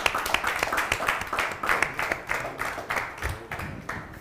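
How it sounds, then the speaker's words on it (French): Audience applause welcoming a star guest onto a Beninese music talk show, a steady patter of hand claps with sharp individual claps standing out, moderately loud and continuous for the whole stretch. "On applaudit encore très, très fort"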